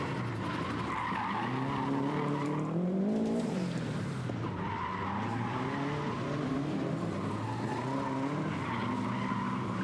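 Subaru flat-four engines growl and rev hard while tires squeal and skid through tight gymkhana turns, a loud continuous roar with rising and falling engine pitch and no talking.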